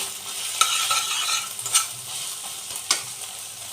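Chilli paste, ginger paste and salted peanuts being stir-fried in a pan, with a soft steady sizzle and a few sharp scrapes and clinks of the spatula stirring the mixture.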